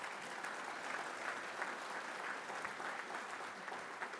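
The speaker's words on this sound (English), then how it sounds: "please join me in a round of applause thanking them" A room of attendees at a Detroit Tigers event claps in thanks for players, coaches and executives, a faint, even patter of applause heard from a distance with no voices over it.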